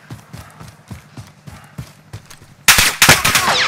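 Running footsteps thud steadily in Call of Duty: Modern Warfare, then a loud burst of close gunfire erupts with several sharp cracks and rattling follow-up shots.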